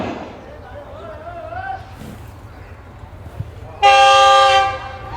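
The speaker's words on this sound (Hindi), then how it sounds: "एक कंटेनर ट्रेन आ रही है GO40 के साथ और ट्रेन माशाल्लाह अच्छी स्पीड में है।" A container train hauled by a GO40 locomotive runs at speed with a low steady rumble, then a loud sustained horn blast sounds near the end, after a brief stretch of voice.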